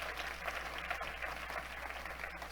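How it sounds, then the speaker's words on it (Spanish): A church congregation applauds during a Spanish-language sermon, a faint, continuous wash of many hands clapping with no distinct beats, heard at a distance. "Denle un fuerte aplauso al Rey de la Gloria conmigo."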